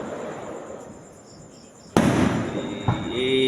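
Fireworks going off at a night display, a sudden loud burst followed by a crackling rumble and a second pop, with insects chirping steadily in the background.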